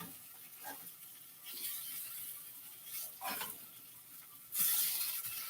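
Vegan strawberry cheesecake French toast rolls fry in a pan with a soft, steady sizzle, quiet scrapes and shuffles over it and a brighter hiss surging near the end.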